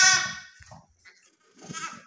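Young lambs bleat loudly in a dog enclosure used for raising puppies, one long close cry at the start and another after a pause, with a few softer shuffling sounds in between.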